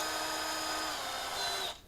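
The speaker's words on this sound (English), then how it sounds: "I'm just going to drop my valve, the old valve, down in the drill" An old LT1 engine valve chucked in a power drill spins with a steady, close, high-pitched whine that runs continuously and then cuts off sharply near the end.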